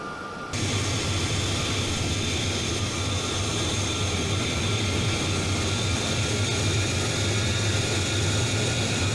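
Steady, loud jet engine drone of a Northrop Grumman B-2 Spirit bomber cruising in flight in Microsoft Flight Simulator 2020, a continuous low roar with airy hiss above it throughout, no voices.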